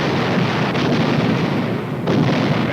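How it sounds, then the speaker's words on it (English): Artillery fire from an infantry division's regiments, heard as a continuous dense rumble of booms with a sharper, louder blast near the end, filling the whole stretch without speech. "Artillery."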